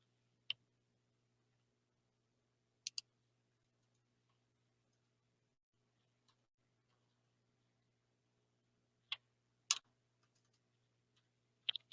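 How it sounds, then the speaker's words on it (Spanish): A computer keyboard gives scattered sharp key clicks, a few isolated taps and a small cluster, faint against a quiet room with a low steady hum. "Ay, otra vez el teclado."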